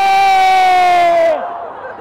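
A crowd at a New Year celebration lets out a loud, sustained collective shout that holds steady, then drops away abruptly into quieter background noise.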